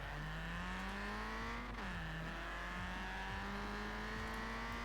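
A Toyota Celica in the Forza Horizon 4 racing game revs hard and climbs through quick gear shifts, one sharp shift dipping the pitch before it rises again, alone and fairly quiet.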